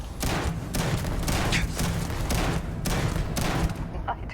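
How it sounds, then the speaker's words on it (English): Enemies in the video game Starfield fire their guns in a dense, rapid burst of shots that runs without a break. The gunfire is close and loud, with no voices over it. "Oh yeah, they're just opening right up. They're just shooting."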